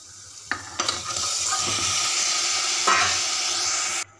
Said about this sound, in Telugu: కడిగి పెట్టుకున్న మటన్ వేసుకోవాలి.